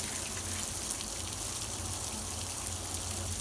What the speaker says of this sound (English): watch which way the water flows